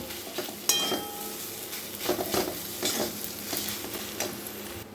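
Mashed boiled potatoes being stirred into cooked masala in a pan for pav bhaji, with repeated scraping strokes of a spatula over a soft sizzle, close and steady, no talking.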